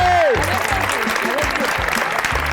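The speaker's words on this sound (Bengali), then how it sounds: "হাততালি।" A studio audience at a televised quiz show gives a short burst of loud clapping, with a voice speaking over the start.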